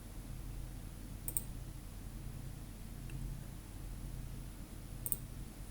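Two faint, sharp mouse clicks on a computer, spaced a few seconds apart over a quiet, hissy room background.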